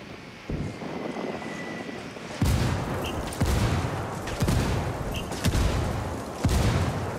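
Gunfire in the video game Ghost Recon Wildlands: a string of sharp, loud shots in irregular bursts over a steady engine-like drone, with no speech.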